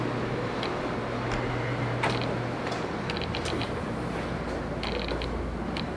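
Blocks of cold-process soap roll on a creaking cart into a soap-making studio's cutting room, giving steady squeaks and light mechanical ticks and clicks at moderate volume with no voices.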